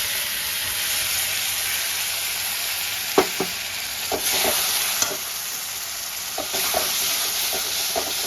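Masala paste with cashews fries in a pan as a steady loud sizzle and hiss, with a series of spoon scrapes and knocks from stirring, close up, and nobody speaking.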